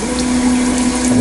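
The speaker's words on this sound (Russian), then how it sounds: "Вот сейчас пошла промывка." Water spray running from a TOTO bidet seat during its wash cycle, tested on a building site with the lid connected to a drinking-water supply: a steady close hiss with a constant pump-like hum underneath.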